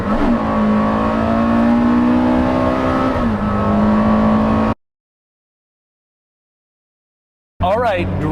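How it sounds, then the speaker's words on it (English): A Porsche Carrera GT supercar accelerates hard, its engine note loud and close with a steady rising pitch through a gear change, then cuts to silence before a brief burst of engine sound returns. "I'm gonna leave you with a little acceleration from Carrera GT."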